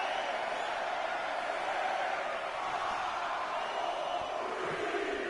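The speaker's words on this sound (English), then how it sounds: "Listen to this crowd." A virtual arena crowd in a WWE 2K20 wrestling match gives a continuous, distant wash of cheering and roar, fairly faint and steady throughout with no clear peaks.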